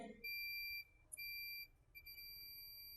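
A multimeter set to continuity buzzer mode, with its probes on the ground point of a 5-pin microphone being converted to 3-pin, gives a steady high-pitched electronic tone that briefly cuts out twice and then continues.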